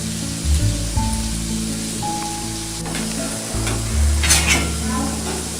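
Pieces of senai kilangu, elephant yam, fry in oil in a pan on low heat, giving a continuous soft sizzle and crackle with occasional stirring scrapes close by.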